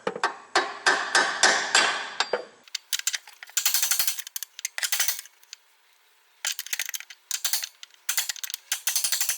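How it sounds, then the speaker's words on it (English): A series of sharp metallic taps from a 1-pound hammer driving a suspension bolt out with a drift pin on a 2006 Chevy Malibu, first a quick rhythmic run, then irregular clusters of light strikes with brief pauses between. "I'm just using a 1-pound hammer, nothing big. I'm going to try to lightly tap this bolt through."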